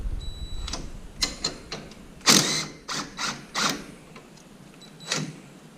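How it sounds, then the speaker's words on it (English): Ratchet wrench loosening the 15 mm bottom shock bolt on an ATV, a run of close, sharp mechanical clicks in short bursts with brief pauses between them, no talking. "So remove this bottom shock bolt"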